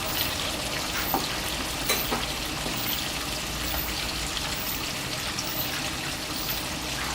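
Catfish deep-frying in dark, reused oil crackles and sizzles steadily, with a constant hiss and scattered sharp pops. The frying sounds close and continuous.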